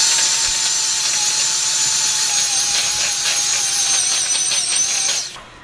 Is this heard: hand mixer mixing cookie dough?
yes